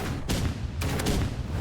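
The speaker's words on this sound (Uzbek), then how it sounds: "Granatali avtomat tushibdi-ku bunga." A grenade launcher rifle fires in the Roblox game Rivals, giving sharp booming shots with a noisy, dense background. One burst comes early and a couple of quick blasts follow close together.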